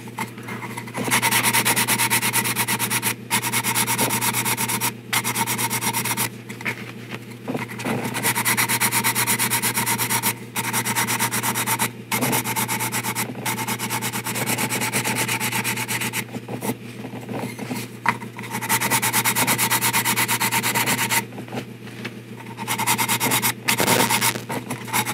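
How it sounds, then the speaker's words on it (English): Continuous rubbing and scraping of sandpaper, first 240 grit then 600 grit, across the surface of a 1/6-scale vinyl figure kit, steady and close with brief pauses between strokes, no talking. "I'm gonna hit with 240, and then I'm gonna hit with some 600"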